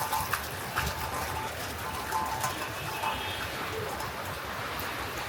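Steady rain falls outdoors as a dense, even hiss, with bird calls and faint voices in the background, while the downpour is beginning to ease.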